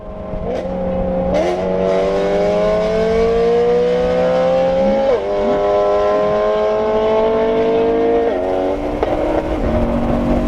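A loud BMW E90 M3 drives up a canyon road, its engine droning close and strong. The pitch climbs steadily through each gear, then drops sharply at every shift, with no talking.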